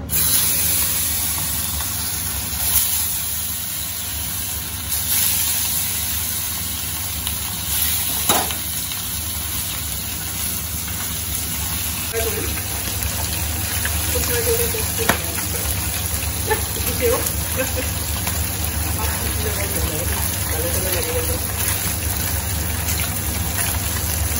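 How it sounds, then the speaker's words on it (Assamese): Fish frying in hot oil for a fish sour curry, a steady broad sizzle and hiss running continuously at close range with a few sharper pops, no talking. "তেলটো গৰম হৈ গ'ল মাছটো দিওঁ এতিয়া"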